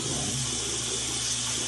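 Steady running water streams from a tap while a Scottish Fold kitten gets rinsed during a bath. The rushing is loud and close and continuous throughout, with no talking.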